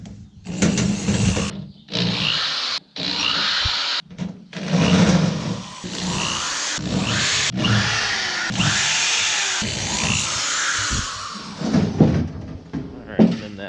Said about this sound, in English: the first step is to remove all the screws on the panel,